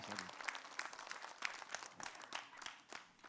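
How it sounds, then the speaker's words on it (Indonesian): An audience claps steadily in a quiet, distant burst of applause that carries on without a break. "Tepuk tangan buat Ustadz Ahmad Khan."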